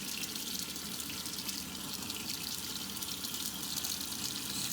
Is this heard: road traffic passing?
no